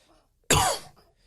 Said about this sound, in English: Now cough.